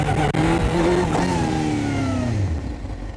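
A stunt motorcycle engine on the street accelerates hard with rising harmonic whine through a wheelie at speed, loud and continuous, easing slightly near the end.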